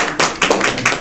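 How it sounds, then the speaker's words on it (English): A church congregation clapping hands during a song at a Youth Sunday service, a few loud, close, rhythmic claps spaced roughly a quarter second apart. "everybody clap your hands"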